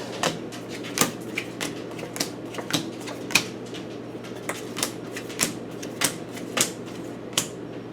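Cards being shuffled up close: a steady run of soft, crisp slaps and clicks at an uneven pace, with no talking.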